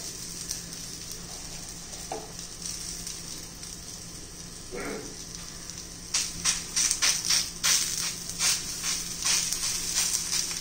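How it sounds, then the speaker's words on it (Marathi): Thalipeeth made from sprouted green mung and jowar flour, topped with sesame seeds, roasts in a pan with a steady soft sizzle; the frying grows louder and more crackly in the second half, with small bursts of spatter. "आता मस्त असं भाजून घ्यायचंय, खरपूस असं भाजून घेऊया आपण"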